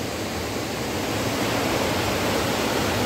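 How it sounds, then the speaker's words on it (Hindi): A mountain waterfall stream rushing steadily on a Himalayan trek, a loud, dense, unbroken roar of falling water filling the whole clip with no other sounds standing out. "वो देखो मुकेश झरना क्रॉस कर रहा है"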